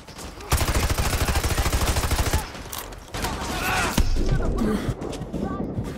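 Dense automatic gunfire from a Call of Duty Modern Warfare 2 Remastered match, a rapid steady burst of shots followed by further loud bursts and impacts with a voice speaking in between.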